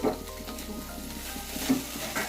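Cauliflower samosa filling stirred and fried in a pan, with a steady sizzle broken by scraping stirs, close and moderately loud throughout with no talking.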